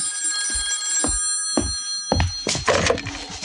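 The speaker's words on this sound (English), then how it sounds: "Herb, the phone." An old-style telephone bell in a radio drama gives a few short bursts of ringing, then the receiver is lifted with a clattering handling noise.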